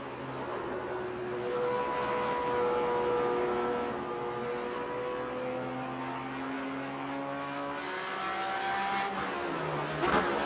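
Racing car engine held on the pit limiter, a Porsche Cayman GT4 race car, droning steadily with stepped, uneven pitch changes for several seconds, close and continuous without talk.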